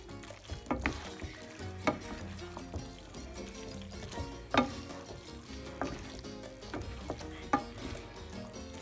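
Spaghetti carbonara being stirred through with a little cream in a pan, soft sizzling under repeated clinks and scrapes of a utensil against the pan, fairly quiet and irregular.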